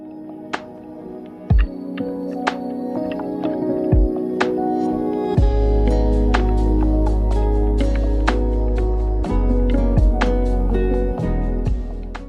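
Soft, dreamy electronic music with warm sustained chords, deep bass swells and crisp percussive hits spaced across the track.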